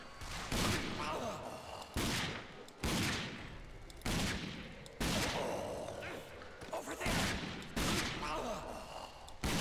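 Gunfire in the video game Fallout 4: loud bursts of rapid shots in several long volleys separated by brief gaps, close and harsh, with a voice briefly heard.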